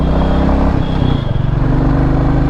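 A Royal Enfield Classic 350 Signals in Marsh Grey, its single-cylinder engine thumping steadily close by as the throttle opens, a loud even putter with a brief dip in the middle and no voices.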